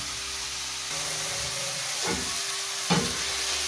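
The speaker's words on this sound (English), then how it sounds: "So you mix well until you can see it's softening." Tomatoes are stirred and mashed in a hot frying pan while cooking a Kenyan fried Nile perch dish, giving a steady sizzle with two brief scraping stirs near the end.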